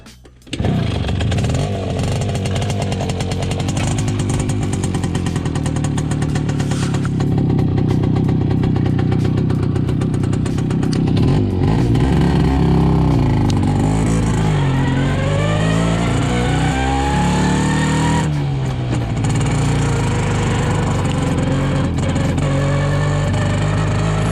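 An Ogar 205 motorcycle engine fires up and pulls away on asphalt, a loud continuous close engine drone that rises and falls in pitch with throttle and gear changes as it rides.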